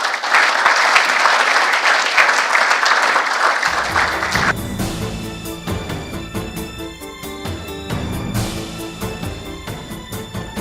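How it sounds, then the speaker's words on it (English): Warm applause fills a cricket club season launch gathering for about four seconds, loud and close, then fades out as recorded music takes over. "I'd like us to applaud Evelyn in her absence tonight"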